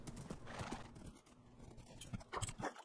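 Hooves clip-clop in quick irregular beats as a horse gallops in Minecraft, faint and close, with a few brighter clacks near the end.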